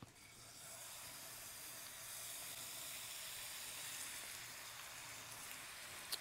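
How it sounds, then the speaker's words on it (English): Beef tenderloins sear in a hot pan, giving a steady, fairly quiet sizzling hiss that holds evenly throughout, with no talk over it. "So what we're gonna do is we're gonna sear these."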